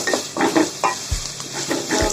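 Spoon stirring butter chicken masala as it browns in a pan: a close sizzle with rhythmic scraping strokes and a couple of low knocks against the pan, steady and fairly loud.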